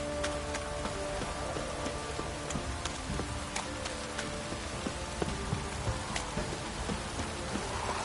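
Rain in the video game The Witcher 3 patters in a steady, dense wash, with scattered sharper drips and taps on surfaces over a low rumble, continuous and fairly quiet, with no voices.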